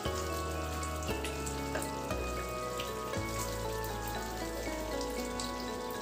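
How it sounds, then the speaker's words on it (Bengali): Chicken korma frying in oil while being stirred, giving a steady, soft sizzle that runs the whole time beneath background music, with no talking. "ভালো করে নাড়াচাড়া করে মিশিয়ে দিচ্ছি"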